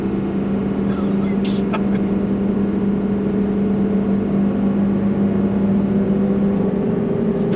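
A 2023 Ford Super Duty pickup truck pulling hard under acceleration, a steady loud engine drone with a sustained low tone heard from inside the cab, continuous and even throughout with no speech.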